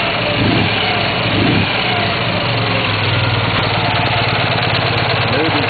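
A Ural motorcycle with a newly fitted Ducati ignition idles close by in a steady low chugging rumble, with a couple of brief throttle swells near the start and a faint voice underneath.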